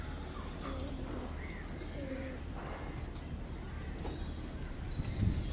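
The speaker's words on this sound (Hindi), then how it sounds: "ज़बरदस्त परवाज़ी पर कबूतर।" Pigeons coo softly on a rooftop loft in a pigeon-keeping setting, repeated gentle calls heard faintly over steady background noise and murmured talk.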